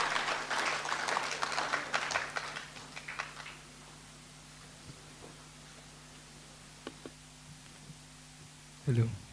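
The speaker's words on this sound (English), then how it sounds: "Let's have a round of applause to these young talents here." An audience at a Skill Week closing ceremony claps for young performers taking the stage, a dense burst of applause that fades out after a few seconds, followed by quiet room tone and a few faint knocks.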